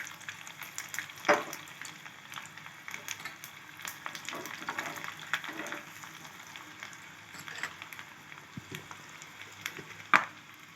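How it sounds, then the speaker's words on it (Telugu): Thinly sliced garlic sizzles in hot oil with chana dal and urad dal in a tempering for grated mango pickle, a continuous close crackle broken by a few sharp pops and light stirring. "అవి కొంచెం ఫ్రై అవుతున్నప్పుడు వెల్లుల్లిపాయలు రెండు రెమ్మలు సన్నగా తరిగి ఇలా వేసుకోవాలి"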